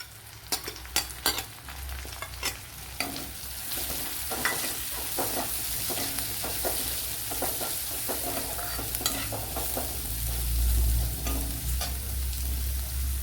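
Chopped onion sizzles steadily in a pan for an egg masala curry, with scraping stir strokes of a spoon near the start; a close, continuous frying hiss with no talking.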